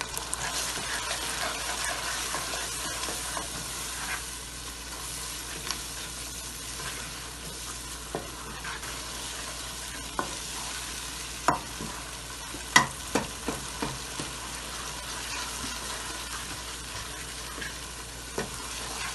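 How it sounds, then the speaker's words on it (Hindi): Spice masala roasting in a pan for qeema, with a constant close frying hiss and occasional stirring scrapes and taps that cluster into a brief run of louder knocks near the end. "मसाला बिल्कुल भुन जाएगा"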